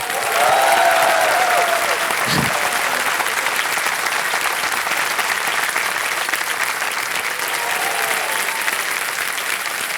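Studio audience applause on the Kaun Banega Crorepati quiz show, a loud, sustained wash of many clapping hands and cheers for the whole stretch, with a brief thump and a voice faintly under it.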